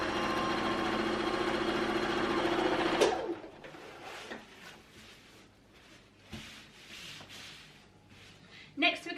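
A sewing machine runs steadily for about three seconds, stitching a 1/4-inch seam on a stair tidy bag, a loud, even buzzing whir that then stops, leaving quieter handling sounds and light rustles.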